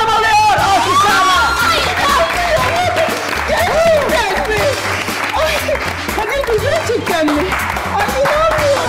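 Applause and clapping from a studio audience greet the season's final winner of a cooking competition, sustained and loud throughout, with excited voices, chatter and cheering mixed in.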